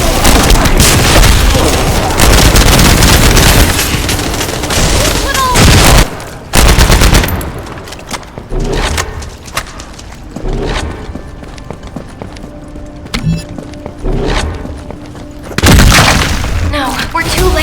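Loud bursts of gunfire and booming blasts in the video game The First Descendant, with dense rapid shots early, a big explosive hit, then sparser shots and a final loud surge near the end.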